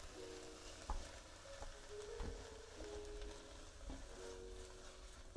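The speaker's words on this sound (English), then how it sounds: "butter goes in." Butter melts in a pan with a faint, steady sizzle broken by small pops and soft clicks, with no one talking.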